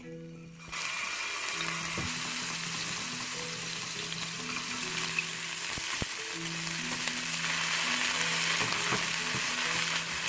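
Garlic frying in olive oil gives a steady, close sizzle that starts abruptly and carries on throughout, with occasional light stirring clicks and a faint hum in the background.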